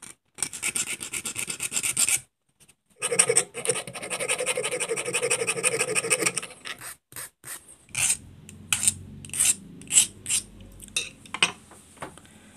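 A hand file rasps against metal to round off a surface while clearing a snagged thread, coming in steady back-and-forth bursts with short pauses, close and fairly loud.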